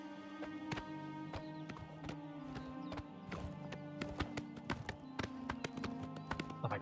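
A horse gallops in Oblivion Remastered, its hooves clip-clopping in a quick, irregular rhythm over a low ambient game backdrop, fairly faint but continuous.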